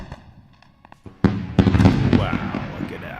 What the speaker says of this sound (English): What a nice fireworks show.